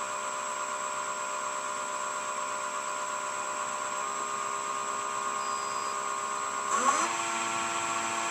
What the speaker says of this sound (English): Let's start with a roughing gouge.